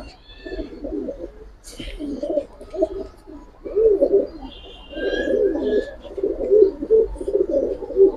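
A pair of Chuithal Kaldom pigeons cooing close by, with soft, throaty coos that repeat in runs and grow fuller toward the end, under faint background chirps and a few low murmurs.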